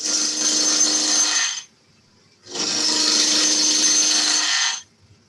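A wood lathe turns a wooden wig stand while a cutting tool shaves the spinning blank. Two sustained, close hissing cuts of about two seconds each are separated by a short quiet pause.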